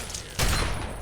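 A shotgun blast hits feral ghouls in Fallout 3, one sudden loud boom about a third of the way in that rings on afterward, with no talking.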